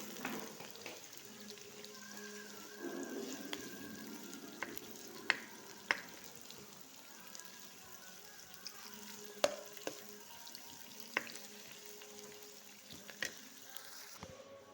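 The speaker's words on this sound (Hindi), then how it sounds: "ऑयल गर्म हो गया, अब इसमें प्याज फ्राई करने के लिए डालते हैं।" Onions fry in hot oil with a faint, continuous sizzle and scattered small scraping clicks of stirring, fairly quiet and close. No one speaks.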